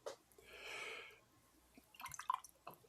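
Siesta Key spiced rum from Sarasota, Florida pours into a glass with a soft, sustained liquid trickle that swells and fades, followed by a few nearby clinks and splashes.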